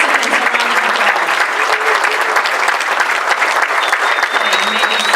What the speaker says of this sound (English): Let's give all of these participants a round of applause.